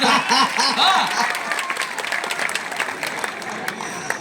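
A crowd at an April Fool's humorous gathering in Banaras breaks into a burst of clapping. The applause is loudest early on and then thins to scattered claps, while a voice speaks briefly at the start.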